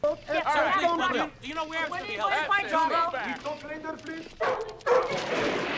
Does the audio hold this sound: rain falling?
no